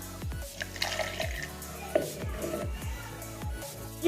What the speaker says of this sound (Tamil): இப்போ எல்லா பாலையும் ஊற்றி அரைச்சி எடுத்துக்கணும்